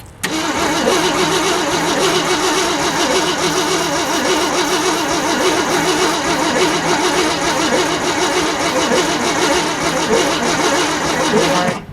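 A 1965 Mercury Marauder engine cranking steadily with the starter whirring in a fast, even rhythm as it tries to fire, loud and close throughout without catching.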